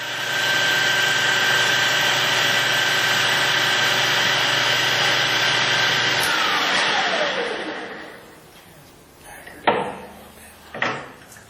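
A modern 13 x 20 inch precision lathe with a D1-4 camlock spindle and 5C collet nose runs at 1800 RPM, a loud steady mechanical whine that spins down and fades, followed by two sharp clunks.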